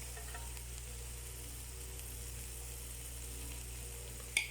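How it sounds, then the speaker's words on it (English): Ghee sizzles steadily on hot charcoal during home cooking, a continuous soft frying hiss with no talk, ending in a brief sharper crackle. "Add some ghee in the charcoal."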